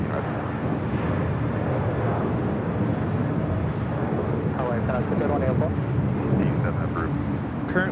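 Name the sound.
Asiana Airlines A380 departing Los Angeles airport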